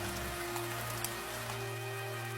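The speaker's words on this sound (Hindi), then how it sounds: "कड़कती बिजली के साथ साथ मूसलाधार बारिश भी शुरू हो गई।" Heavy rain pours down steadily during a thunderstorm, a dense continuous wash of drops on surfaces with no voices, mixed with a low sustained drone.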